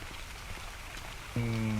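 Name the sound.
rain falling in the video game ARK Survival Evolved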